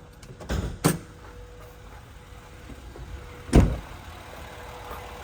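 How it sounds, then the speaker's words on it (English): Hood of a 2012 Honda Pilot EX-L 4WD with a 3.5-liter V6 being opened: two sharp clunks, one near the start and a louder one a few seconds later, against a quiet background. "Let's go ahead and open the hood so we can take a peek under the hood."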